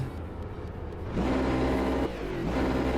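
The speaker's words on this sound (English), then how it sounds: "Love the lower kind of engine roar this car has" Racing car engine in the Automobilista 2 sim racing game, a low, deep roar that climbs into a loud sustained rev with steady harmonic tones, eases briefly and then pulls up again.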